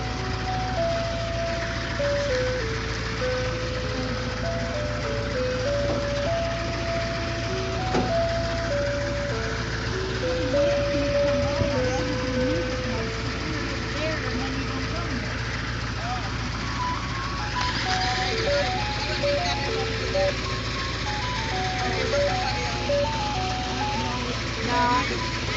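An ice cream truck jingle loops its simple tinny melody for the whole stretch over a steady low engine hum, fairly close and constant, with no words spoken.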